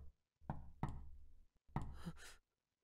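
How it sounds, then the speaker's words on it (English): Eerie knocking on a door in the ChäoS;Child visual novel: two dull thuds, a short pause, then a third heavier knock with a lingering rumble, close and isolated against silence. "that eerie knocking"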